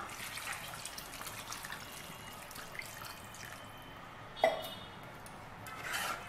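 Water trickles and splashes steadily into a metal pot of mutton curry, with a brief clink partway through, close and fairly quiet.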